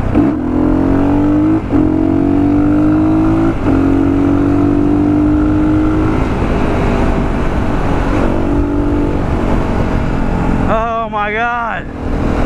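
A 2012 Yamaha WR450F supermoto motorcycle engine runs loud and close, holding a steady drone with a few brief blips before a sharp rising-and-falling rev burst near the end.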